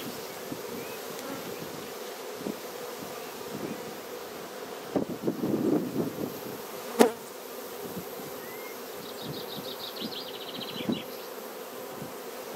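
Honeybees buzz steadily around an open 12-frame Warré hive, a dense continuous hum with light wind and rustling, a few louder passes of bees near the microphone.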